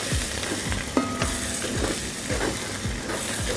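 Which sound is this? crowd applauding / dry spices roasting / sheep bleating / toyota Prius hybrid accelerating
dry spices roasting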